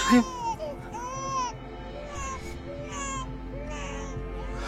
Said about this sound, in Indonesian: Tapi ini anak nangis terus, Pak. Rewel banget.